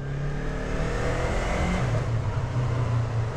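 Yamaha MT-03 roadster motorcycle engine with its stock exhaust revving on a test ride, a steady close engine drone rising slightly in pitch, with wind noise and no talking.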